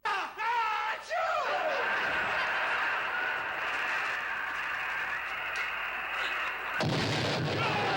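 Gun firing on command in a TV comedy show, a loud boom and crash after a brief rising whistle, followed by a sustained rumble and a final burst.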